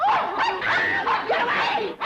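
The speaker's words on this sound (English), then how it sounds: "That vicious dog is going to attack me." A vicious dog barks and yips in an excited, nearly continuous run of sharp, whining calls, loud and close, with no talking over it.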